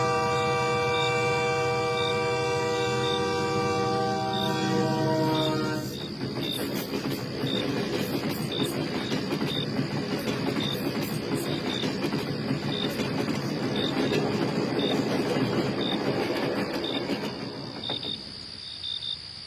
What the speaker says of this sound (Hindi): तभी दूर से एक हॉर्न सुनाई देता है। लगता है आज रात का आखिरी ट्रेन आ रहा है।